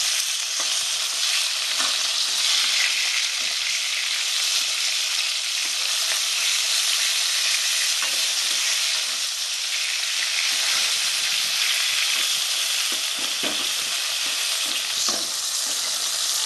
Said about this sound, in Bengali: মাছটা আমি লাল লাল করে ভেজে নেব।